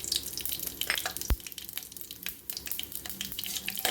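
Mustard seeds and a red chilli sizzle and crackle in hot oil in a kadai, a dense, close run of sputtering pops, and one sharp knock partway through.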